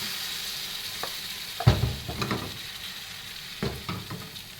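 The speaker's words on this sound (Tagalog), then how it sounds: "Siyempre, mainit na yung ating mantika. Ilagay na natin yung ating pancake." Banana pancake batter fries in hot oil with a steady close hiss, a sharper burst of sizzle partway through and another spatter near the end, with light clatter between.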